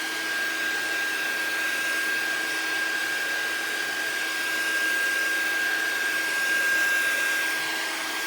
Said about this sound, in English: I'm just going to have to use the dryer and the heater and get it heat set